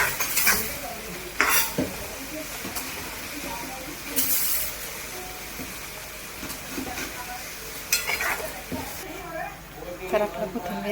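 A coriander mixture stirred in a pan, with a spoon scraping and clinking against the metal and a light sizzle, in repeated strokes while a person talks nearby.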